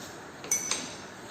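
Two light glassy clinks close together, a glass rod tapping a glass vessel while dissolving ammonium chloride, faint against a quiet hiss with no voices.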